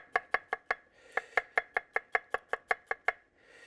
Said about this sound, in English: And the garlic in that case is going to be sliced